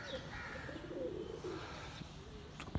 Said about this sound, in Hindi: यहाँ पे कबूतर बड़ा आके बैठा